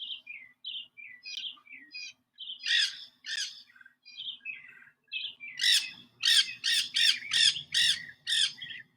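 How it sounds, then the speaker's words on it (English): Parrots squawking outdoors in the evening, a close series of harsh, rasping calls in uneven bursts that grow louder and more insistent toward the end, with no talking. "Oh, some parrots have joined us now."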